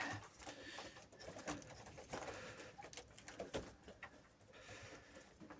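Soft cooing of Perm high-flying pigeons blends with a steady rustling background, with occasional taps and flutters close by and no talking.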